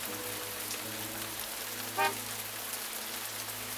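Steady rain in a visual novel video game scene, a constant soft hiss of falling drops over a low background hum, with a brief tonal chime rising midway.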